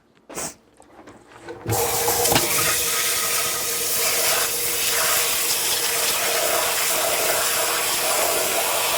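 A faucet runs into a pan to set it soaking. A few clinks and handling noises come first, then the water gushes in with a steady, fairly loud rush that continues to the end.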